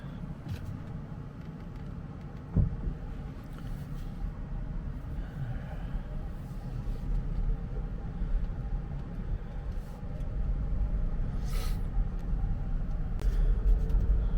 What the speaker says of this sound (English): we're out on the road in the Rivian